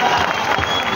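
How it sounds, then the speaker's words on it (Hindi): Applause from an audience at a Hindi comic poetry recital, a dense, steady wash of clapping filling the whole second, moderately loud with crowd murmur mixed in. "और 400 पे तालियां बजा रहे हो।"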